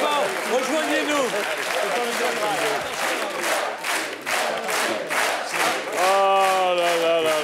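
A television studio audience applauds and cheers a singing troupe, rhythmic clapping mixed with loud voices and singing throughout, rising again toward the end.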